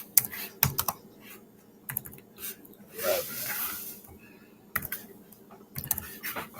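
Keyboard typing in bursts of rapid clicks with pauses between, fairly close and moderately loud, alongside faint background hiss and some low murmur.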